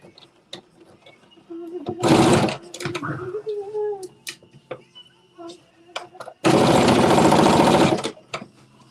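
A home sewing machine back stitches across the bottom of a collar, giving two loud bursts of rapid stitching separated by quiet handling, with a voice speaking briefly between them.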